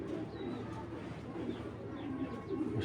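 Tournament pigeons cooing in a loft, soft low rolling coos repeating close by, with faint bird chirps and a murmur of background noise.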